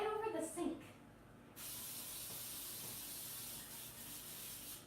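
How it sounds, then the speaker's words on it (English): Cooking spray sprayed onto baking pans over a kitchen sink, a steady close hiss of about three seconds after some earlier rustling, with no talking. "spray it over the sink."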